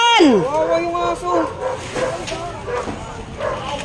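A dog trapped during a house fire in Taguig yelps sharply and then whimpers in a series of high, wavering cries, close and loud, amid agitated voices shouting nearby.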